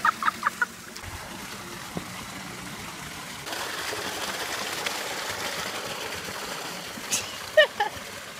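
Chickens cluck in short bursts near the start and again near the end, with a steady outdoor background noise between them.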